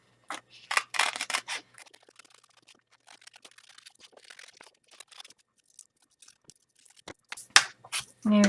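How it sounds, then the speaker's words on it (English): Scissors snip out ripped paper shapes in short close bursts of crisp cuts, busy at first, then sparser and quieter before a final cluster of sharp snips, with no talking. "now I'm going to cut these out"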